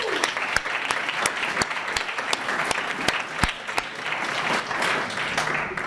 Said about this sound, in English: I want everyone to give themselves a round of applause.